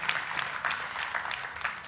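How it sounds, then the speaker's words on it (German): An audience claps briefly in a hall, a short burst of scattered applause at moderate distance. "Applaus finde ich jetzt mal gut."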